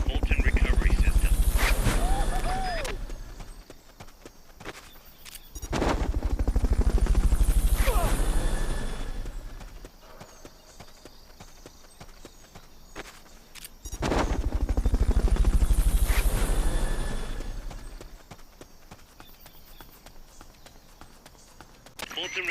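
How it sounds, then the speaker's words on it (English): A Fulton recovery helicopter in the video game Metal Gear Solid Peace Walker roars in three long rising and falling swells of rotor noise, with sharper bursts scattered through the quieter gaps. "Fulton recovery helicopter is complete."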